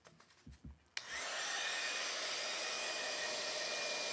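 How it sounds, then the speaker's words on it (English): A heat gun used to heat emboss a stamped card switches on after a second of faint handling noise, then blows with a loud, steady whooshing hiss that continues unbroken to the end. "let's just heat emboss this"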